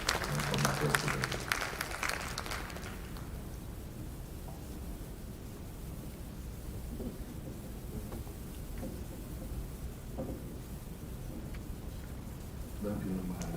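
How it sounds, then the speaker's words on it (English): Audience applause for an incoming president at the 2020 Annual Olumide Memorial Lecture. A burst of clapping opens and fades within about three seconds, leaving a hissy hall ambience with faint sounds for the rest. "Please a round of applause for our incoming president."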